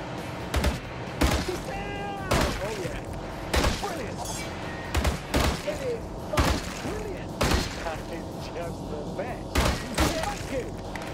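Gunfire in The Grand Tour video game, a rapid series of loud sharp bursts in uneven clusters across the whole stretch, with a voice talking between the shots.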